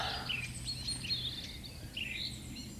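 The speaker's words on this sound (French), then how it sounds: "joli rouge-gorge. Il est juste là dans l'arbuste. Il est en train de marquer son petit territoire. Et comment il fait ça? Il chante." A European robin sings from a shrub while marking its territory, thin high warbled phrases repeating over a steady low outdoor hum, fairly faint and distant with no voices.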